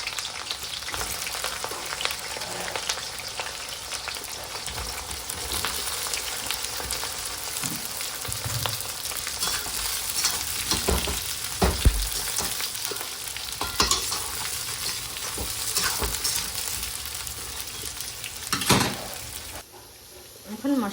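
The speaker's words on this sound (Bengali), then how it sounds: "ইঁচড়গুলো লাল লাল করে ভেজে নেব।" Young jackfruit pieces frying to a reddish brown in a pan give a steady, dense sizzle, with stirring scrapes and clatters scattered through it and a brief lull near the end.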